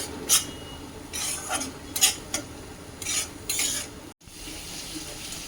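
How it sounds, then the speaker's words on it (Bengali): Spice masala is stir-fried in oil for a ridge gourd and gram-flour fritter curry, with a spoon scraping and clinking against the pan in bursts over a soft background sizzle. "এখন মশলাটা ভালো করে কষে নেব"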